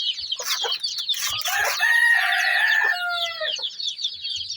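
A hen clucking up close, a run of sharp clucks leading into a drawn-out, crowing-like call, then more clucks trailing off, loud and alone.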